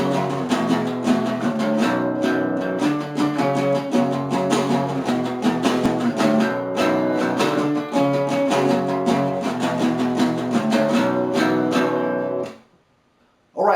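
An electric guitar plays a riff over and over, steady picked notes repeating for about twelve seconds before stopping abruptly into near silence.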